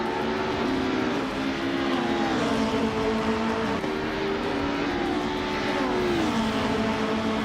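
Racing cars, including a 1999 Opel Vectra, drone steadily through a race, with engine tones rising and falling as gears shift. The noise is continuous and moderately loud, with no voices.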